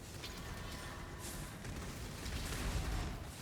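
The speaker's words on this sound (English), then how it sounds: "There's just explosions everywhere because I'm a chieftain, and chieftain explosions are awesome" Fire explosions from a Chieftain Fire Tornado build in Path of Exile: a dense, continuous roar of overlapping booms and crackles, loud and unbroken, swelling slightly toward the end.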